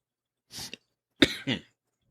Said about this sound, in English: Oh, I'm never going to get rid of this cough.